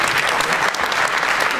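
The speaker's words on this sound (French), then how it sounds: "ça s'applaudit, s'il vous plaît" Audience at an awards ceremony in Aveyron clapping for two prize winners, dense, loud and continuous applause filling the whole moment.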